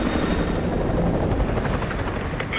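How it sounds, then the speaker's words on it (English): An enemy helicopter patrols overhead in the video game Call of Duty: Modern Warfare 2, its rotor beating loud and continuous with a deep rumbling chop, no voices. "Enemy helo patrolling the perimeter."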